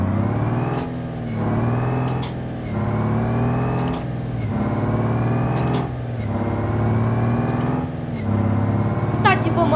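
Truck engine in the BeamNG driving game revving in repeated surges, rising and falling through gear changes roughly every two seconds, loud and steady throughout, with someone speaking over it.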